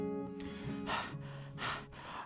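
A human voice imitates someone panting hard and out of breath after running, with a few quick breathy gasps and voiced huffs at close range.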